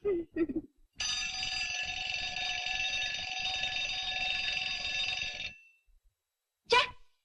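An alarm clock rings with a loud, bell-like tone, steadily for several seconds, then stops; brief voices come just before it starts and just after it ends.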